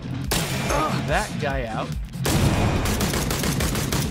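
Gunfire from a video game shooter, including a shot at an explosive barrel, comes in sharp bursts under someone talking over the action.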